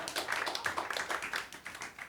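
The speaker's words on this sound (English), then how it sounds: "Clap for it, yeah." Scattered audience clapping at a cabaret fundraising show, a small crowd's quick, uneven hand claps in a continuous patter that fades slightly at the end.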